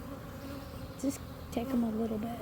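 Honeybees from a swarm hum around a hive box in a soft, steady buzz, with individual bees droning close past. A person speaks briefly over the insects.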